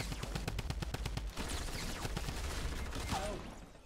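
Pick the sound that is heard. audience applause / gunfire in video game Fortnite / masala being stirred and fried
gunfire in video game Fortnite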